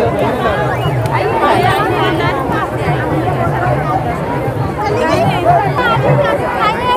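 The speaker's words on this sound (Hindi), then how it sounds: "फ्रेंड काफ़ी भीड़ है यहाँ पर" Dense crowd chatter fills a busy Madai village fair in India, many overlapping voices and footsteps close around, loud and continuous.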